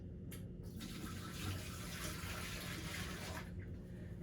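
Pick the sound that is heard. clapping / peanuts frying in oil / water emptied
water emptied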